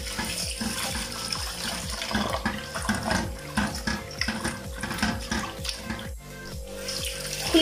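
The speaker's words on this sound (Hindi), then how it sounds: "खुले पानी से आपने इसको धो लेना है अच्छे से" Tap water runs steadily over garlic-rubbed beef liver being washed in a kitchen sink, a close, continuous splashing stream with uneven gurgles as the meat is turned under the flow.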